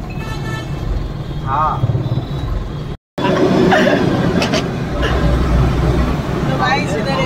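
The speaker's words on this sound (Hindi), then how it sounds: "फार डेंजर ट्रैफिक जाम है" A jammed road is full of idling engines, with car and motorbike horns tooting repeatedly over a steady rumble of traffic while people talk nearby.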